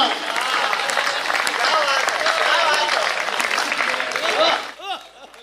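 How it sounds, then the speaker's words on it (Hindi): An audience applauds together at a Hindi poetry recital, a dense, loud burst of clapping that fades out near the end. "तालियां मिलके बजा रहे हो"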